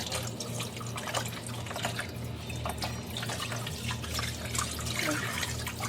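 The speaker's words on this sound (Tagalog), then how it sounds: "Parang mahina ang tubig." A tap runs with a weak flow, a continuous soft trickle and splash with scattered drips, fairly quiet and steady throughout.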